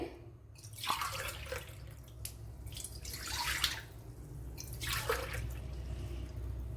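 Water running and splashing into a bowl while mixing sweet potato idiyappam dough, a fairly steady faint stream with a few brief drips and splashes, no talking.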